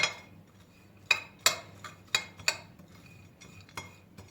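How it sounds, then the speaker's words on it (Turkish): A spoon stirs crushed hazelnuts with sugar in a bowl, giving sharp, irregular clinks and scrapes against the bowl, about a dozen distinct taps over a few seconds, close and clear with no talking. "Şimdi üzerine bir yemek kaşığı toz şeker ekliyorum. Ve karıştırıyorum."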